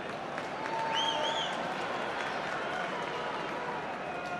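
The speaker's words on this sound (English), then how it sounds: "A ripple of applause from the home fans." Home fans at an Ulster versus Connacht rugby match give a soft, continuous spatter of applause that blends into the broad stadium crowd noise, with a commentator's voice over it.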